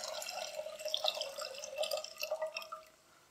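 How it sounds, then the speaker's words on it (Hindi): The last cup of water is poured into a pot of Kashmiri pink tea with cardamom, a faint, brief trickle and splash with no talking. "और जो बचा हुआ पानी 1 कप है वो भी डाल देंगे।"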